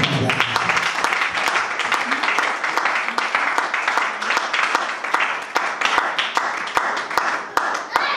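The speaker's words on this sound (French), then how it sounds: "Applaudissons très fort." Sustained applause from a large congregation at a religious service, dense and steady clapping throughout, with voices mixed in underneath.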